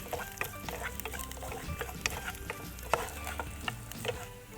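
Garlic fries in hot oil for a chickpea curry, crackling with steady close sizzle. Sharp spits and stirring scrapes break through now and then, and no one talks over it.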